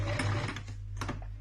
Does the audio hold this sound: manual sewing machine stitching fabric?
yes